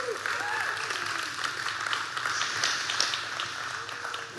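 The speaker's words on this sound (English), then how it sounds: "Let's give him another round of applause." A church congregation claps for a man returning to the stage for announcements, a short, moderately quiet burst of applause with some voices under it.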